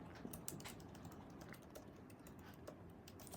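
Keystrokes on a computer keyboard as a website URL is typed, a steady run of quiet clicks at a distance with low room noise and no talking.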